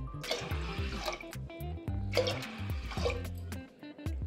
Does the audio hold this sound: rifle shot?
no